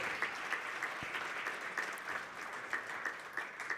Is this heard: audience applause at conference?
yes